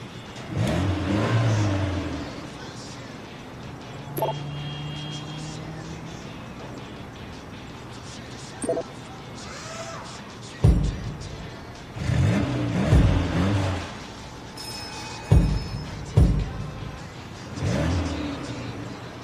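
A car engine in the video game Sleeping Dogs revs and accelerates in several bursts amid ambient sounds, with brief speech in between.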